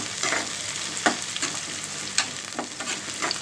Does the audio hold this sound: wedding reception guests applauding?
no